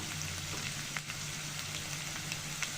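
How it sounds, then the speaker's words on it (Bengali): Onions with garlic paste fry in a pan, giving a steady, fairly quiet sizzle and crackle with faint spatter pops throughout and no talking. "এসব দিয়ে কাঁচা মশলাটা ভালো করে ভেজে নিব।"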